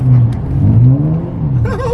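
A turbocharged Infiniti G35 on wet ground revs hard and close with a deep, loud rumble, its pitch bending up and down over a brief burst, with a rising whine near the end.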